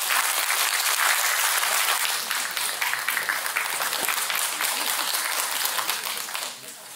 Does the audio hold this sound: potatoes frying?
no